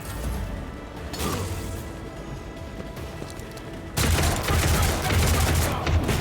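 Gunfire rings out in the video game Rogue Trader: Lex Imperialis DLC, with dense overlapping volleys of shots. The shooting is sustained throughout and swells into a louder, heavier barrage in the second half.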